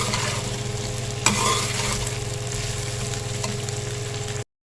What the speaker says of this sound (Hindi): और इसको हमने अच्छे से फ्राई करना है।